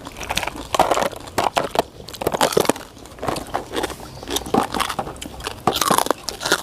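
Crispy fried pork rind crunches loudly and close up in rapid, irregular bites and chewing, eaten alongside rice noodles in a spicy fish curry sauce.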